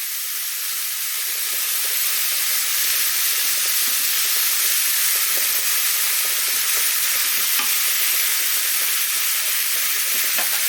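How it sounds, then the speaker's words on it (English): Chopped onion sizzles and hisses steadily in a hot pan used for searing lamb chops, with soft scraping of stirring running through the whole stretch; no voices. "rather quickly I'm going to get in my onion into there. And give that a stir around."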